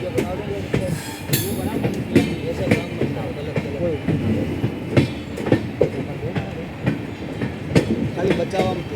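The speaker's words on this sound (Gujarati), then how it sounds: "આખી ટ્રેન દેખાય છે." A train runs on rails, heard from aboard as a steady rumble with repeated clickety-clack wheel beats and a brief high wheel squeal early on, while people talk over the noise.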